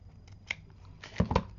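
A few quick, close snips of scissors cutting paper while crafting an envelope, with a couple of sharper crisp cuts near the end.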